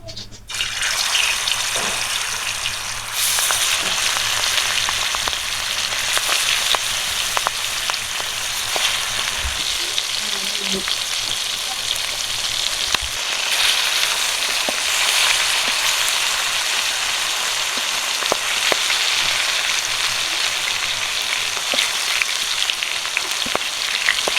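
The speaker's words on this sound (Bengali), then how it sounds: "গরম হয়ে গেছে, মাছগুলো দিয়ে দেবো।" Steady, loud sizzling of large pangas fish pieces frying in hot mustard oil, a continuous hiss with occasional pops and crackles throughout.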